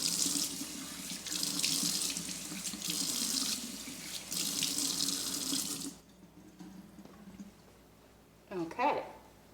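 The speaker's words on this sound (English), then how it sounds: "So I'm going to rinse really quick." Tap water pours steadily into a sink while a face is rinsed, loud and close, then cuts off into quiet with a few faint drips and a short splashy burst near the end.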